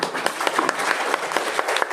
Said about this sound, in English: I further request everyone to clap